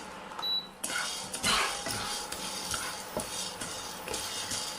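A pot of popping jowar (sorghum) being shaken over heat, a steady rattling and hissing wash with scattered sharp clinks and pops, close and continuous with no voices.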